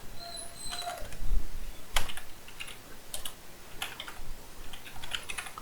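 Brisk typing on a computer keyboard, clusters of sharp key clicks close to the microphone in an uneven rhythm across several seconds, with no speech.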